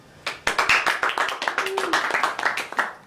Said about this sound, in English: You, sir, should not be clapping.